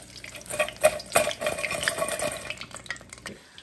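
Honey garlic chicken pieces frying crisp in hot oil, with a steady sizzle and several louder bursts of spattering and stirring near the start, fading quieter toward the end.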